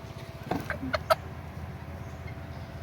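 A Sultan chicken gives a few short, close clucks in quick succession, then falls quiet against a low background hum.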